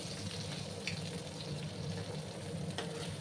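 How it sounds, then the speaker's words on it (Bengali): Constant crackling sizzle of pointed gourd and potatoes frying in oil, close and steady, with occasional stirring scrapes and no talking. "পটল আর আলুগুলোকে একটু ভেজে নিচ্ছি"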